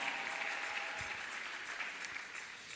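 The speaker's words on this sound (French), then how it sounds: "Acclamez encore" A church congregation applauds steadily during a Sunday service, a dense continuous patter of hand claps that fades slightly toward the end.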